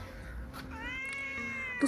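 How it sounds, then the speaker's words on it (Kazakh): A cat gives one drawn-out, rising meow that starts partway through, nearby but fairly quiet over low background noise. "Мысықтың дауысы естіліп тұр ма?"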